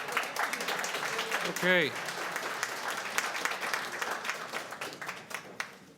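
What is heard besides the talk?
audience clapping in committee meeting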